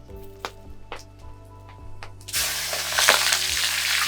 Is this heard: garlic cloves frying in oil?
yes